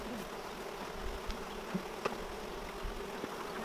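Honey bees buzz steadily around an open beehive during a hive split, a dense close hum with a few louder individual bees darting past.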